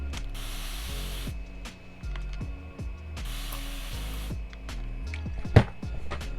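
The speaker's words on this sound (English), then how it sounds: "is the Continuous Mist Spray. The spray bottle, y'all." A continuous mist spray bottle, a beauty tool, sprays in a series of long hissing bursts of fine mist, each pump stroke adding a clicking trigger ratchet, close and fairly loud.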